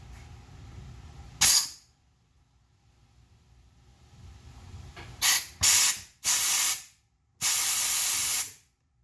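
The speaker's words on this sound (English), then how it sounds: "give it just a squirt of air" Short blasts of compressed air hiss sharply into the front brake caliper of a Yamaha Seca XJ750, five loud bursts of rising length separated by quiet gaps over a faint background hum.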